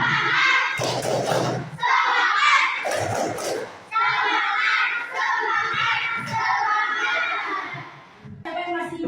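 Classroom of schoolchildren performing a chanted spirit-clapping routine, loud bursts of rhythmic claps and thumps mixed with children's voices shouting and chanting together, pausing and resuming in sections.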